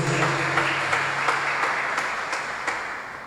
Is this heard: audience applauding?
yes